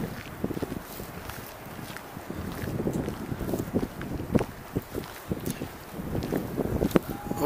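Seaside wind on the Normandy coast, a steady broadband rush buffeting the microphone throughout, with scattered gusts and faint crunching steps underneath, no voices.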